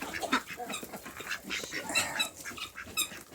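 Farm ducks being fed on a rainy day, a busy cluster of quacks and honking calls overlapping at close range, with no talk.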